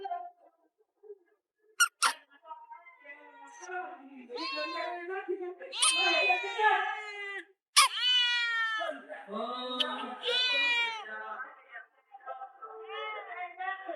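A cat meows repeatedly, drawn-out and insistent cries close by, separated by short pauses, with a few brief squeaks in between.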